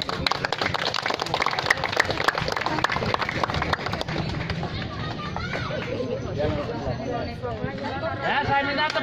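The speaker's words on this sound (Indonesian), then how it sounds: "Ya, saya minta tepuk tangan." Applause at a Kampung KB inauguration ceremony in Glodogan village, Klaten Selatan, with a crowd clapping steadily, then thinning into chatter and an amplified voice speaking over the hall.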